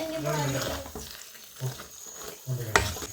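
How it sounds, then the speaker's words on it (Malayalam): Flattened rice halwa with cashews, cooked in coconut milk, stirred in a pan, giving soft scraping and light sizzling under a voice talking through most of it. "ഇതിന് നല്ല പോലെ ഇങ്ങനെ ഇളക്കട്ടെ."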